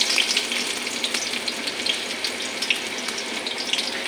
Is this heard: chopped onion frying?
yes